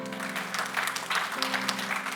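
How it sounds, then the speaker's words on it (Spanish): Applause from a church congregation during a Spanish-language Christian service, moderate and steady with scattered sharp claps over a sustained low musical hum. "denle ese aplauso fuerte al Señor."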